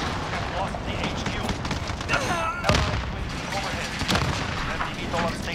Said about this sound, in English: Allied cruise missile overhead.